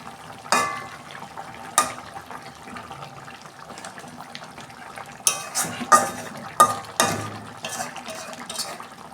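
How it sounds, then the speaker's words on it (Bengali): Fried eggplant being added and stirred into a simmering fish curry with bhola fish, heard as a soft background sizzle broken by sharp clanks of a utensil against the pan, some clustered close together near the end. "এই যে বেগুনগুলো ভেজে রেখেছিলাম, আমি দিয়ে দিচ্ছি।"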